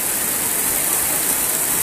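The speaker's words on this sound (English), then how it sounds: "It's a heavy rain." Heavy rain pours down at the grandstand of a swimming competition, a dense, steady hiss of falling water that stays loud and unbroken, with no voices heard.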